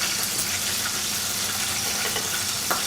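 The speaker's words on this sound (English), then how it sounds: "You want to get about, I guess, a 1/16 of an inch of it seared" Tuna searing in a hot pan gives a steady, close sizzle that holds evenly throughout, with a few faint clicks near the end.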